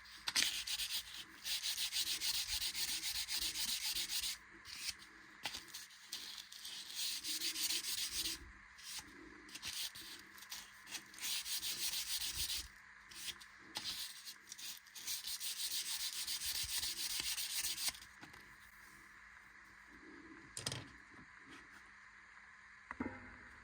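A natural wooden bow stick for a bowed psaltery being sanded by hand, close, bright scratchy rubbing strokes in repeated bursts with short pauses between them, alone without talk.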